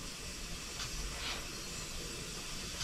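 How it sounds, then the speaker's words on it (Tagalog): Steady broadband hiss of steam escaping past a cut-down, ill-fitting replacement gasket on a pressure cooker, continuous and fairly faint throughout with no talk. "Medyo may diferensya lang kasi itong pressure cooker ko. May singaw doon sa gilid."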